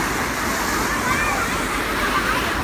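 Mountain stream at a tourist area in Binh Duong, Vietnam, flows with a steady rushing, sloshing wash of water, fairly close and continuous, while someone talks over it.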